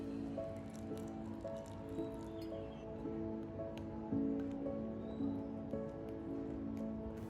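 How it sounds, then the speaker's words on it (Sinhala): Rice flour dough for string hoppers is kneaded by hand with warm water, giving soft, wet, steady squishing and light sticky smacks that stay quiet and close throughout. "ඒ වගේම මද උණුසුම් වතුර ටිකෙන් ටික එකතු කරලා මේ මිශ්‍රණය අනා ගන්නවා."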